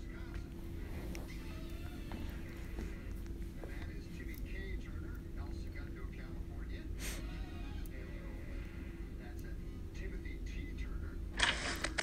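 A television plays in the background of a home, giving a steady, muffled wash of indistinct voices and sound at low level throughout, with no nearby talk.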